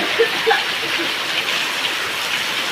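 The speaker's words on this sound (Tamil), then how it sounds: "எப்படி மழை பாருங்க அரக்கோணத்தில்" Heavy rain pouring in Arakkonam makes a steady wash of hiss at moderate loudness, with a few faint, brief voice sounds near the start.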